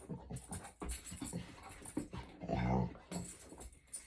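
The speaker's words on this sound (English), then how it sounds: "my dog wants to play" A pet dog eager to play, panting in quick rhythmic breaths close by, with a drawn-out whimpering whine partway through and soft shuffling pawing around it.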